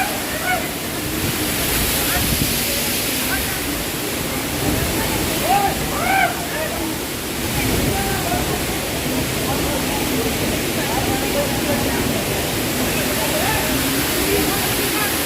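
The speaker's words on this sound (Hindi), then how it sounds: "ना नीचे छोटा वाला झरना भी है।" A small waterfall in Mussoorie pours with a loud, steady rushing hiss of falling water, continuous and close, while voices sound faintly beneath the constant roar.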